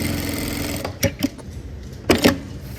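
Electronic straight-stitch sewing machine running steadily at close range, with two short bursts of faster stitching clearly louder above its hum.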